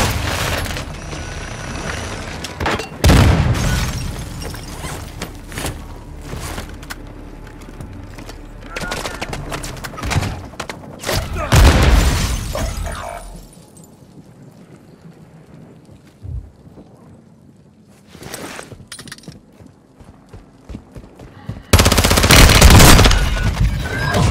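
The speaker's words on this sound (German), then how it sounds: "Granate ist raus! Das war meine Granate!" Grenade blasts and gunfire in Call of Duty Warzone 2.0 on Ashika Island Resurgence: loud, booming bursts strike at three points. They are separated by stretches of quieter rumble and scattered shots.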